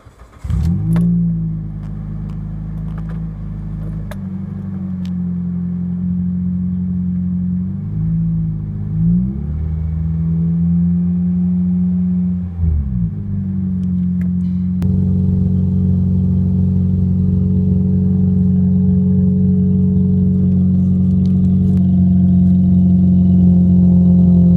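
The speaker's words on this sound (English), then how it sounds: "my exhaust is no longer connected to my muffler" A Toyota Matrix 1ZZFE engine with its exhaust disconnected from the muffler idles with a loud, deep, rumbling exhaust drone, rising briefly in a few revs before settling into a steady heavy idle.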